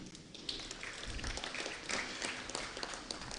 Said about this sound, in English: Let us give the trustees and the management a clap for that issue.